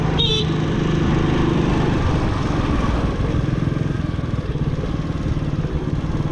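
A motorcycle engine runs steadily nearby, a low rumbling drone idling and revving slightly, with a brief high-pitched sound at the start.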